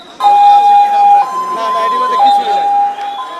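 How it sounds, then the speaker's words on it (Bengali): Ambulance sirens on a city street after a plane crash in Uttara, wailing loud and steady in alternating two-tone pitch steps throughout, with crowd noise and voices underneath. "একদিকে অ্যাম্বুলেন্সের পর অ্যাম্বুলেন্স ছুটে চলেছে বিভিন্ন হাসপাতালে"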